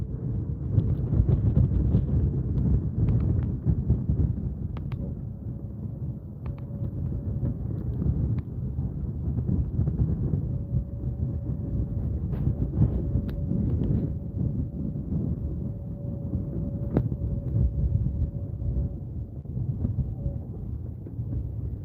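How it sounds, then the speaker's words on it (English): Strong, steady wind roars and buffets the microphone at Simpson Bay, St. Martin during Tropical Storm Ernesto, with a continuous low rumble lasting throughout and no one speaking. "this wind gets pretty intense"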